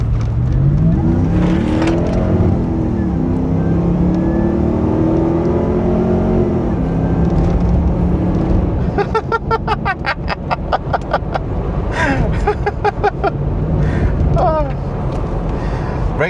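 A Toyota 100 Series Land Cruiser's supercharged 2UZ V8 roars as it accelerates hard, pitch climbing steadily, followed by rapid fluttering bursts and gear-shift dips close to the microphone.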